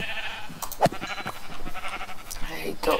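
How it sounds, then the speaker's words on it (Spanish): A Minecraft sheep bleats in a short wavering call, layered with other game sounds while someone talks over it. "Esto es oveja."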